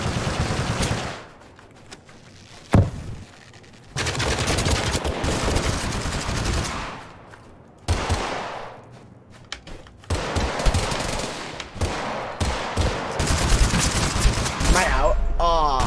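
Rapid gunfire from a gun in the video game TABS, loud sustained bursts of shots broken by a few short pauses, with a voice talking over part of it.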